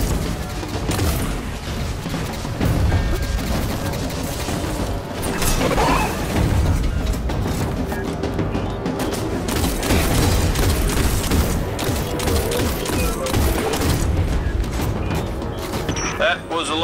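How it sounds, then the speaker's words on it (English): Sustained gunfire in the Destiny video game, dense rapid shots and mechanical clatter running throughout, loud and continuous with voices talking over it. "That was a lot of shooting."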